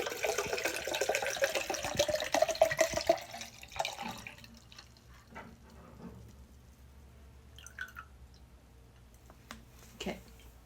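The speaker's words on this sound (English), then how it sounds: "And then we're gonna dump this water in." Water poured out of a container while doing laundry by hand: a steady splashing pour for about four seconds, then quieter drips and small knocks as it settles.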